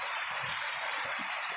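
A wild-running brook rushes steadily, a dense broadband watery roar with no pauses, close and fairly loud, with no voices.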